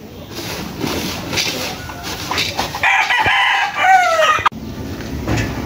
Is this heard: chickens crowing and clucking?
yes